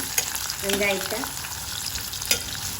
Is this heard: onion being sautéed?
yes